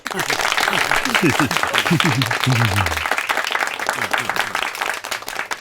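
A committee meeting breaks into loud, dense clapping to pass a resolution. Voices talk over the continuous applause throughout.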